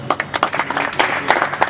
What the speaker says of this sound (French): applaudissons Joey Star Bangato